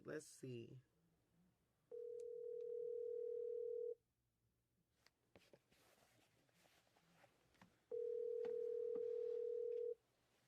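Steady telephone dial tone heard twice in a call-in radio show, each about two seconds long, loud and clean, with a short stretch of voices and rustling in between.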